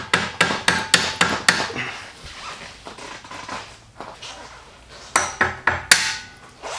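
Hammer tapping a bolt through a motorcycle foot peg and spring on a Harley-Davidson Low Rider S: a quick burst of about six sharp metallic taps, a quiet pause, then three more strikes, close and loud.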